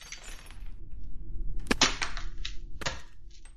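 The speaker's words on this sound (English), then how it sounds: "the smashing of the camera is me just slamming my foot down on a pile of twist ties" Twist ties piled up and stomped on to fake a camera being smashed: rustling crackle with two sharp, loud crunching impacts a second apart, then scattered rattling. No one speaks.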